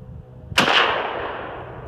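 A single close, loud gunshot comes from a Mosin Nagant 91/30 bolt-action rifle fired outdoors, with a sharp crack followed by a long rolling echo that fades over a second or more.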